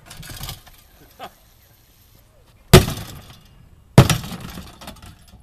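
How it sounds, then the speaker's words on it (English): A sledgehammer pounding on stainless steel dishwasher parts, two loud sharp metallic impacts with clattering rings about a second apart, preceded by quieter rattling and handling noises. "just start pounding on it, and this stuff comes off like magic"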